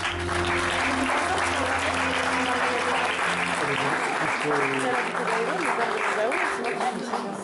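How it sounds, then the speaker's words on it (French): At a wedding fair in Saubrigues, a crowd's applause pours out loud and continuous, layered over a steady tonal backdrop of music or voices that carries on beneath the clapping. "Ils attendent des applaudissements, je pense."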